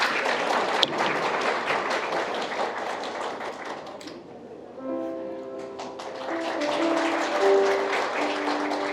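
Guests at a wedding in a convention hall greet the groom's father with a burst of clapping that fades as music swells in, with a sharp thump near the start.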